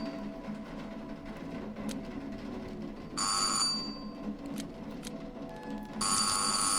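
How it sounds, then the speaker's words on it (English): A doorbell in the horror game Burnhouse Lane rings in two bright, insistent bursts a few seconds apart, cutting through a low ambient room drone. "I've been ringing the bell for quite some time."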